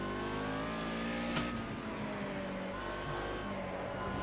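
Drifting car in an Assetto Corsa-style driving simulator game: a steady, loud engine drone with revving tones and tyre squeal, continuous throughout with one sharp burst near the middle.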